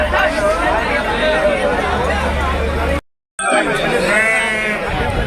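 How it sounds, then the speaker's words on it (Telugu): Macherla sheep bleating amid the hubbub of a busy sheep market, with crowd chatter and a voice throughout; several bleats ring out close by, broken by a brief silent gap. "ఇవి మాచర్ల గొర్రెలు అన్న."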